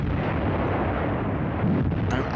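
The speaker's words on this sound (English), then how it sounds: "Ein verzweifelter Ausbruchsversuch britischer Panzer wird durch das zusammengefasste Feuer deutscher Flakbatterien zerschlagen" Concentrated German flak batteries firing on British tanks breaking out: a continuous, dense roar of heavy gunfire and blasts that fills the whole clip, loud and rumbling, with a sharper burst near the end.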